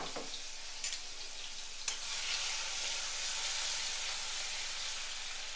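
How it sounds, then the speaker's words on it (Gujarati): Green chili and garlic paste sautéing in hot oil with cumin: a steady, close sizzling hiss with a couple of faint stirring clicks near the start. "તો તેને પણ સાંતળી લઈએ।"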